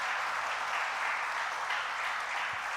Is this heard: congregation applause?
yes